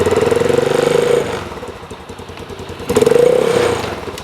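Kymco K-Pipe motorcycle engine running through gear changes, a loud steady buzzing drone that drops and roughens for a stretch, then surges back up in pitch and volume, with clattery mechanical texture throughout.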